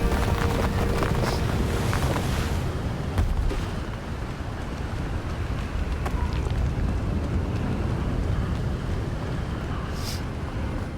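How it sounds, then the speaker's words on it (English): Strong wind in the video game Hogwarts Legacy, a loud, continuous roaring gust that buffets without letup, with occasional brief crackles over the rumble. "It's heckin' windy."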